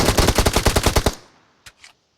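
A loud automatic burst of gunfire in the battle game BGMI rattles off a dozen or so quick, evenly spaced shots, then stops abruptly, followed by a couple of faint clicks.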